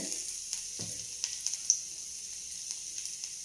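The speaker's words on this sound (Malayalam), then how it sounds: "കടുക് പൊട്ടി വെളുത്തുള്ളി ഇഞ്ചി ഇട്ടിട്ടുണ്ട്" Mustard seeds pop while garlic and ginger fry in hot oil for masala dosa filling, a soft steady sizzle with scattered sharp pops and a few stirring taps, close by.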